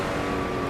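Honda NSX engine in a driving game mod, a brief, loud, steady tonal engine drone at cruising speed, heard alone.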